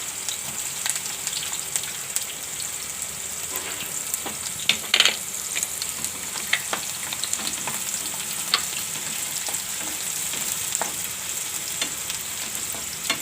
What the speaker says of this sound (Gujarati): ડુંગળીને આપણે ઘડીક વાર સડવા દેવું તેલમાં